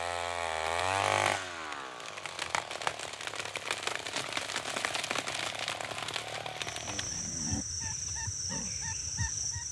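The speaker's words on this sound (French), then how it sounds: "à l'aide de scies à moteur, on s'attaquera aux plus gros arbres" A chainsaw engine revs and whines steadily over several seconds while cutting large trees in the Amazon, rising in pitch at the start, with a high squeal later and a few honk-like sounds.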